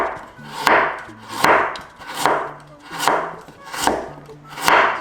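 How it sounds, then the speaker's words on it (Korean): A knife finely chops 70 g of carrot for gimbap in a steady rhythm of about seven crisp, close strokes, each with a short scraping decay. "이렇게 송송 다져줄게요"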